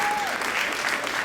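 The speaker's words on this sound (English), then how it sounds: "Let's give them another round of applause." Steady applause from a high school open mic night audience fills the room, dense and continuous throughout, with a faint tonal whistle or feedback line briefly above it at the start.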